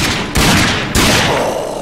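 Loud bursts of gunfire in the video game RAGE, with two sharp blasts followed by sustained rattling shots that continue to the end.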